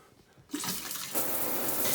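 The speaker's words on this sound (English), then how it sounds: "We got cold water, we got hot water." A faucet in an off-grid camp turns on and runs. Water gushes in with a sudden rush and then keeps flowing steadily, louder after a second surge. It is close by, and no one speaks.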